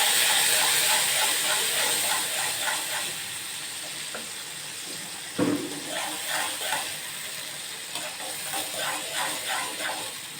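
Spices with turmeric and chili powder sizzle and fry in a pan with a splash of water, a steady hiss with occasional stirring scrapes and one sharper clatter midway, close and continuous.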